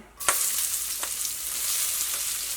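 Chopped vegetables hit a hot pan for restaurant-style fried rice, setting off a loud, steady sizzle that hisses continuously after one sharp initial burst, with a few faint stirring scrapes.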